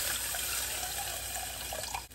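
Water poured into a pot while cooking lomi, a steady rushing splash that runs evenly and cuts off at the end, heard up close at a low level.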